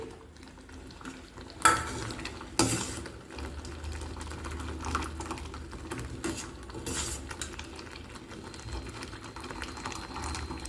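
Homemade tomato ketchup boiling down and thickening in a pot while stirred, with soft bubbling under repeated spoon scrapes and clinks and two sharper knocks near the start, no voices.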